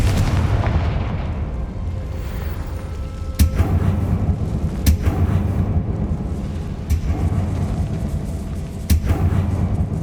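Confringo spell explosions in Hogwarts Legacy: several sharp, loud blasts land a second or two apart over a constant rumbling game ambience.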